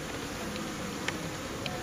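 Honey bees buzz in an opened hive as it warms in spring, a steady faint drone with a couple of brief tiny clicks on top, no voices.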